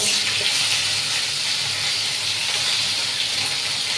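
Homemade fresh paneer sizzles in hot oil in a home kitchen, a steady, loud, dense hiss that runs unbroken and close throughout with no voices.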